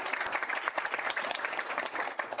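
An audience at an American Red Cross presentation claps in a round of applause, individual hand claps distinct and fairly close, moderately quiet and steady.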